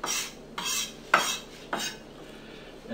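A knife chops herbs on a cutting board in a home kitchen for a salad dressing, giving four crisp, separate strikes at a slow, uneven pace, close and fairly loud with no talk.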